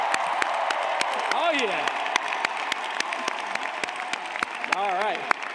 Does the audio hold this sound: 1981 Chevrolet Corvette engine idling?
no